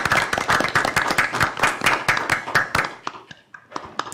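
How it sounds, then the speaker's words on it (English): School board meeting attendees giving Mr. Farmer a round of applause for his service, a close, brisk burst of many hands clapping that thins to a few scattered claps and fades out. "I'd like for each of you to join me in giving Mr. Farmer a round of applause for his service."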